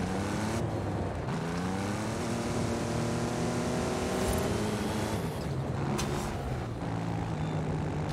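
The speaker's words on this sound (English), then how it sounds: "And that's me full throttle right there" A car engine roars at full throttle in the racing game Forza Horizon 5, steady and loud throughout with harmonic pitch sweeps as it revs and shifts, plus brief sharp clatters near the end.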